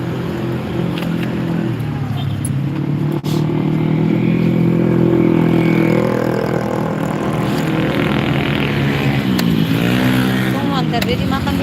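A motorcycle rides through Sorong city, Papua, at night, its engine droning and shifting pitch up close while someone talks over it throughout.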